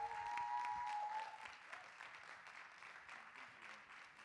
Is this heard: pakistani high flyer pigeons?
no